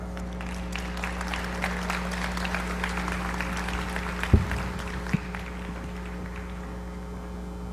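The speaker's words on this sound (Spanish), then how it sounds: "Brindémosle un caluroso aplauso a la licenciada Cristina Híjar." Audience applause welcoming a speaker at a CENIDIAP event in Mexico, a steady wash of many hands clapping over a constant mains hum, with two sharp knocks near the end.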